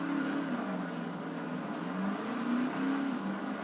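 Engine hum of a car in the Test Drive Unlimited 2 racing game on Xbox 360, steady and fairly quiet, with a low drone that rises and falls slightly in pitch as the revs change.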